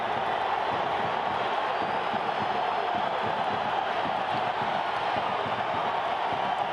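A packed stadium crowd roars steadily after Guatemala's equalizer to make it 2-2 in a Concacaf World Cup qualifier against the Dominican Republic, a dense, sustained wash of cheering with no break.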